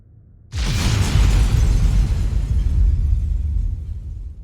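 A sudden massive starbase explosion in the video game Starbase bursts in after a brief quiet, then a long, loud rumbling roar with crackling debris that slowly fades.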